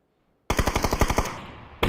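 DMR rifle fire in the video game PUBG, a rapid string of about a dozen sharp close shots that decay into a reverberant tail, followed by a fresh shot at the end.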